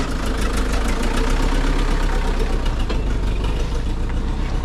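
A truck engine idles steadily at close range for the whole stretch, a loud continuous rumble with no talking.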